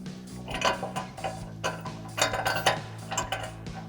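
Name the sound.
metal bolts and washers being handled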